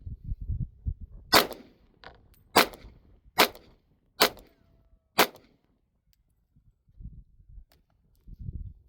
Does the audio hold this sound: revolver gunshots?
yes